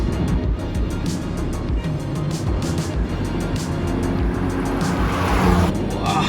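Hyundai i20 N Line pushed hard through aggressive corners, its engine note steady and strong from inside the cabin, with a rising whine and faint tire noise toward the end, continuous with no talk.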